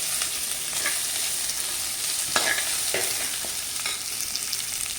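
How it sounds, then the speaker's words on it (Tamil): Onion frying in a pan makes a dense, even sizzle close up, with a few soft stirring scrapes now and then and no one speaking. "அப்போ அது நல்லா வறுத்ததுக்கப்புறம் கொஞ்சமாக வெங்காயம் சேர்த்துக்கோங்க."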